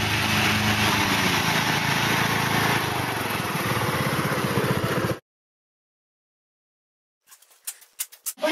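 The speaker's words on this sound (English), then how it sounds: "A 20-horsepower lawnmower." A 20-horsepower lawnmower engine roars loudly and steadily for about five seconds before it cuts out, followed by silence and a few faint, irregular ticks near the end.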